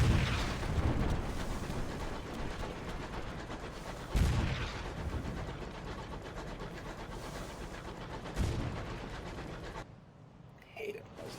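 Heavy gunfire in the Sunless Skies video game during a skirmish between other ships: three loud booming volleys land roughly four seconds apart over a dense rumbling battle din, which drops away near the end.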